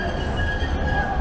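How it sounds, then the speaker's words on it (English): Tram arriving on Market Street in Manchester: a steady close rumble of the rail vehicle with a faint high squeal on the track, brief and continuous. "The tram is coming."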